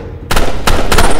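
Shotgun blasts in the Roblox game Parasite: a quiet start, then two sharp, loud, close shots in quick succession, each with a short ringing tail.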